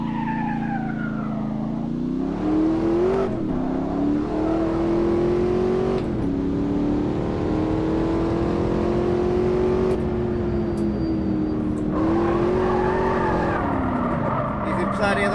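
A race car in a racing video game revs hard and loudly through the gears, its engine pitch climbing and dropping with each shift while the tires squeal through the corners and someone talks over it.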